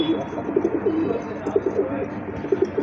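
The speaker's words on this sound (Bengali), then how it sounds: "খুবই সুন্দর ডাকে ভাই প্রচুর ডাকে" Several pigeons coo repeatedly at close range, soft rhythmic throaty calls overlapping in steady pulses against a low background hum.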